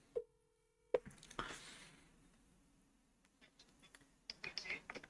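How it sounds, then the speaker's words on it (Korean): A telephone call connects with a short steady ringing tone, then a click and rustling, followed by scattered handling noises and faint voices near the end. "찬미 제가 잠깐 전화하겠습니다"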